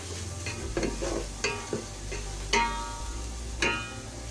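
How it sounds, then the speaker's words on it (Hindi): Cumin seeds frying with lightly browned onions for okra bhujia, a soft, continuous sizzle broken by several distinct spoon-on-pan scrapes and clinks at irregular intervals. "जीरे को 2 मिनट भूनेंगे।"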